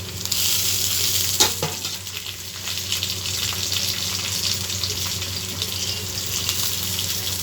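Chopped garlic frying with browned onions in a pan, a steady close sizzle throughout with a brief louder spoon scrape near the start.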